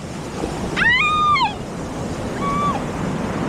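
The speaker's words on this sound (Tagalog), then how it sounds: "Lalaki niya alon na yan, oh." Big storm waves break on a beach in a steady rushing roar, with two short, rising-and-falling cat-like cries standing out above the surf.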